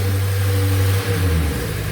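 A BMW XM's engine runs with a steady deep, low rumble that dips near the one-second mark and returns a little rougher, sounding close and loud with no talk.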